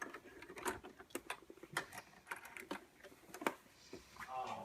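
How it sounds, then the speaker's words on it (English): Sewing machine top stitching a fabric apron, a quiet run of rapid irregular ticks and clatters with brief bursts of mechanical whirring, faint and close. "I'm going to take it back to the machine. And we are going to top stitch it."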